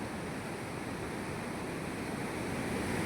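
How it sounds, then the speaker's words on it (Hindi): Large Dasan river in Chhatarpur district in rainy season, its water rushing in a dense, unbroken roar that holds steady and close with no voices. "दसान नदी बहुत ही बड़ी"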